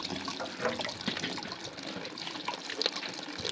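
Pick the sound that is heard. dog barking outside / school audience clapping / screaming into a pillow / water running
water running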